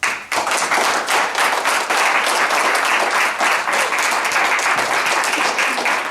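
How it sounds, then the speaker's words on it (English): An audience at an open mic performance breaks into loud, sustained applause, dense and even clapping that starts abruptly and fills the room. "Big round of applause."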